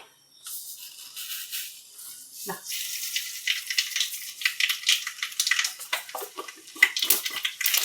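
Mustard seeds dropped into hot oil crackle and spit in a rapid, irregular burst of close sharp pops, building in density and loudness toward the end, with no voices.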